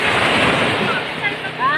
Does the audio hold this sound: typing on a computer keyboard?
no